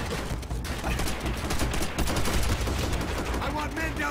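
Dense, rapid gunfire from the World War II shooter Call of Duty: World at War fills the stretch with continuous overlapping bursts, loud and close, with brief shouting voices mixed underneath.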